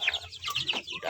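Chicks from free-range village chickens cluck and peep in a quick, continuous run of overlapping calls, close and lively, with no talking.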